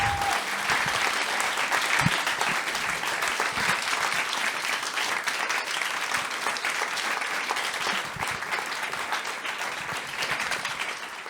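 Sustained audience applause at a forum event fills the room with dense, steady clapping from a large crowd, loud and continuous with no break throughout.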